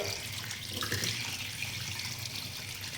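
Water running steadily from a tap in a home kitchen, a continuous close splashing hiss without talk.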